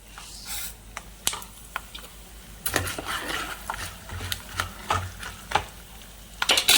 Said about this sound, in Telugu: ఇప్పుడు మినపప్పు పోసేసుకుందాం అండి మినపప్పు